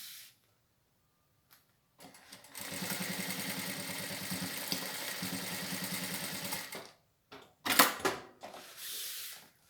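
A sewing machine runs a safety seam right along the edge of fabric pieces placed right side to right side for an emoji toilet paper holder, one steady burst of stitching for several seconds between brief handling noises and short pauses.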